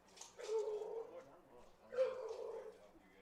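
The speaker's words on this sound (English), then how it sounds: "Is that a dog? It is a dog." A very loud, excited dog barks in two bursts near a college baseball game, its yips and whimpers mixed with a commentator's talk over the top.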